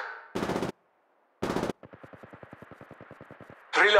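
Gunfire in the mobile video game Apex Legends Mobile: two short heavy bursts separated by silence, then a rapid even string of lighter automatic shots, ending in a loud burst.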